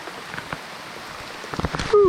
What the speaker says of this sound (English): Oh, that rain is cold.